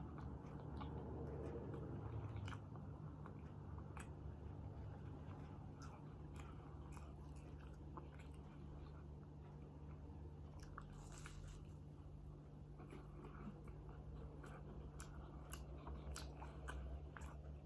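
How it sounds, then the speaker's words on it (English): A Jamaican beef patty is bitten and chewed close to the mic, with soft repeated crunches and wet squishy mouth sounds over a steady low hum, and no talking. "So we're gonna get started on our beef patty."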